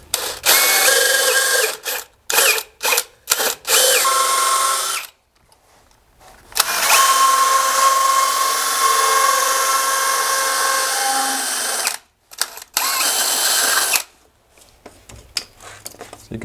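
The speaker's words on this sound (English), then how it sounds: "this is a great tool, this inside pipe cutter" An inside pipe cutter spins inside a drain pipe below grade during a tile shower pan install, heard as a loud, close, high whirring grind in bursts, with a long run of about seven seconds between shorter starts and stops.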